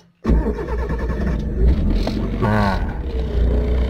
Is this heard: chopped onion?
no